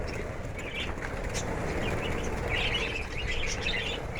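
Many caged lovebirds chirp and flap their wings together, a steady busy chatter of tweets and wingbeats running throughout at close range.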